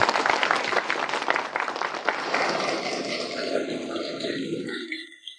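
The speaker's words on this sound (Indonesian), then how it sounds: "Mari kita sambut dengan tepuk tangan." An audience at a book event applauds to welcome the author, a professor, with loud, dense clapping that holds steady and then fades out over the last second.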